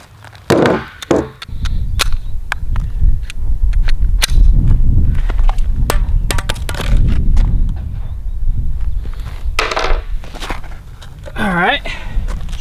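Glock 19 Gen 5 pistol fitted with a Radian Ramjet and Afterburner fires in loud, sharp shots at an outdoor range, some singly and some in quick strings, with talk between them.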